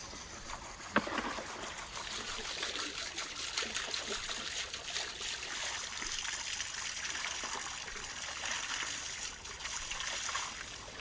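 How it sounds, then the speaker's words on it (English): Water runs steadily over beef ribs being washed outdoors, a continuous soft trickling and splashing at moderate distance with one brief knock near the start. "Now, let's wash these ribs to remove any blood and small bone debris."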